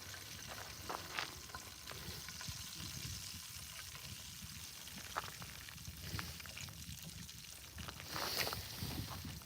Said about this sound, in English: Fry up that last piece real quick, and then we'll fry up the tortillas.